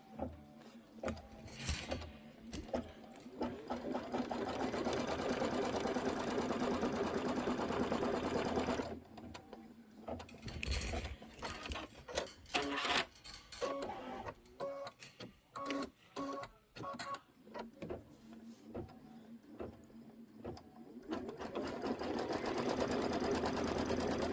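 A sewing machine runs a tack-down line on a quilt block, long steady whirring bursts broken by short pauses and quick stop-start stitching in the middle, loud and close.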